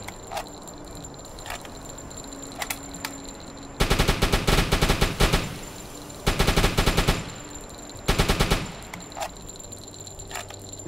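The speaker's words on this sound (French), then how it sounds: "Donc, on va tirer là aussi, histoire qu'ils prennent l'eau d'un peu partout." Deck gun of a U-boat in a submarine video game fires at a ship in three long, loud, rapid bursts, with a few single shots and quieter gaps between them.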